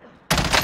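A sudden loud burst of gunfire in Call of Duty: Black Ops Cold War Warzone, erupting after a near-silent moment and sustained close and dense to the end.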